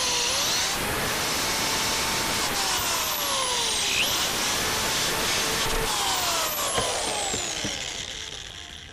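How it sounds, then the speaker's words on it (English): A power drill boring pilot holes in a wooden wine rack whines steadily and close, its pitch sweeping up and down as it bites in, running continuously before easing off at the end. "Drill the pilot holes."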